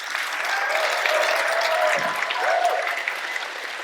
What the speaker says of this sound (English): let's give a huge round of applause right here.